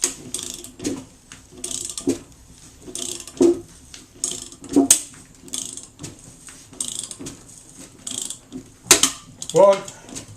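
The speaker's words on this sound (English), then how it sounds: "you'll hear three pings as that cutter cuts through" A hole cutter turned slowly by hand with an Allen key, working through the panel of a VW T5 Transporter during a campervan conversion, giving a series of sharp metallic pings and ratcheting clicks in an irregular rhythm, close and clear with no talk.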